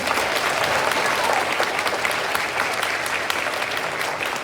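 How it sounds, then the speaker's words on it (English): A school audience at a fifth grade Veterans Day program gives a sustained round of applause for the student speakers, dense, even clapping that holds steady throughout. "Can we give a round of applause to our student speakers?"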